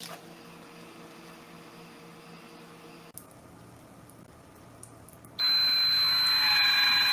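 A water leak alarm suddenly starts up, a loud, steady electronic tone that keeps sounding for the last couple of seconds after a quiet stretch.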